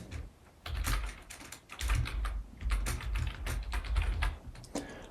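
Typing on a computer keyboard to enter a name: several quick bursts of close, crisp key clicks separated by short pauses, no voice.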